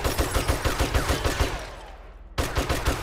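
Rapid, loud .44 Magnum revolver shots fired indoors in the zombie survival game 7 Days to Die, a steady volley of sharp cracks that breaks off into a brief ringing tail before the firing resumes.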